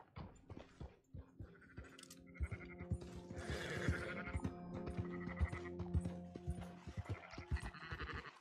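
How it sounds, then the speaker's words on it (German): Sheep bleat repeatedly in Red Dead Redemption 2 during a herding scene with sheep and goats, several overlapping calls near and far over light clinking and ambient game noise. "Wollen wir die Schafe mal dorthin treiben?"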